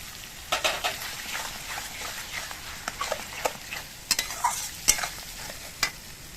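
Tomato paste frying with spices in a pan for doi katla, a soft continuous sizzle with intermittent spoon taps and scrapes, close-up and fairly quiet, no voices.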